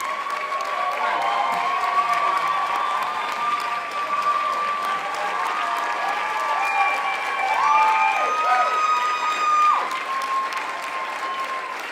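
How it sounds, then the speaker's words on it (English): Applause and cheering for a committee on stage at a university media awards event, sustained crowd clapping throughout with whoops and voices rising over it, swelling slightly toward the end. "give them a round of applause to the MPS committee"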